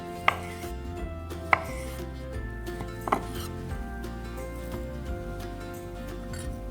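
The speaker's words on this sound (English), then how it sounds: "Now we slice them in about 1/2 inch thick slices, about as thick as your little finger." A knife cuts cooled cooked potatoes into half-inch slices on a board. Three or four distinct soft chops sound close by over steady background music.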